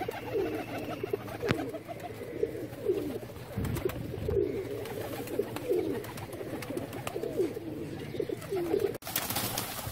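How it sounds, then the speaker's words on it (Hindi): Several Parwazi pigeons coo continuously as a low, rolling warble that overlaps itself for the whole stretch, close and steady with a few sharp knocks and rustles. No one speaks. "ये जी सारे कबूतर हैं।"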